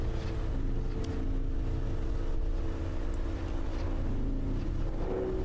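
Engine rumble from a crawling vehicle in the video game Nauticrawl, a constant deep, dense drone with faint mechanical whines on top, steady and loud throughout with no speech.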